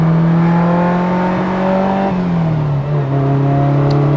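A carbureted Ferrari 308 GTB engine heard from inside while driving, a loud steady drone holding pitch and then dropping slightly as the revs ease, continuous and close with no talking.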